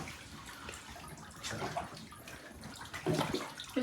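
Water sloshing and splashing while a dog is bathed in a tub, with continuous splashy washing noise rising in bursts, close and moderately loud, no talking.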